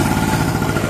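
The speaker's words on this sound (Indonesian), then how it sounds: "Ini mesin udah jalan." A generator set engine runs steadily after repair, a close loud idling chug with a fast regular pulse and mechanical clatter throughout.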